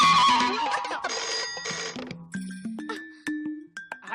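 A landline telephone at a paid call counter rings with a bright electronic ringtone, a run of repeating tones sounding close and fairly loud. Faint voices sit briefly underneath.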